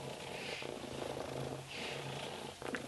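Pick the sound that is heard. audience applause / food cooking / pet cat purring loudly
pet cat purring loudly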